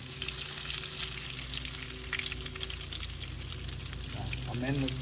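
Croquettes frying in grease in a pan give a steady, close sizzle with light stirring and handling noises, and a voice is briefly heard near the end.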